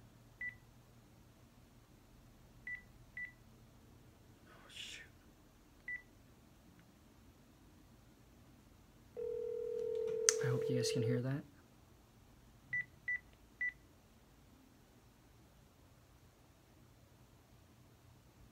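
Telephone keypad tones dial out in short separate beeps on an office phone during a cold call, followed by a longer steady tone, with a person talking quietly in between.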